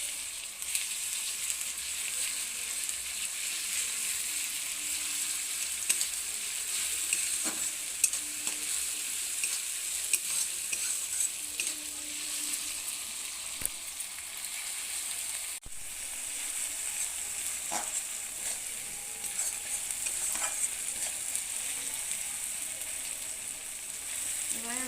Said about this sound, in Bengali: পেঁয়াজ ভাজার মধ্যে আমি রসুন বাটাটা দিয়ে দিলাম।